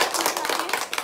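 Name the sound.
applause for player number 4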